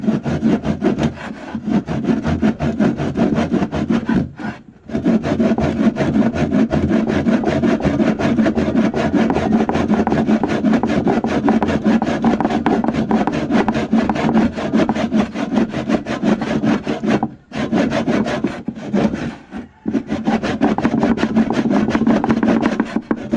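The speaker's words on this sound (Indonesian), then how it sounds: "cara menggunakan gergaji" A hand saw cutting through wood in a mechanical engineering workshop, steady back-and-forth rasping strokes at close range with a few short pauses, no talk.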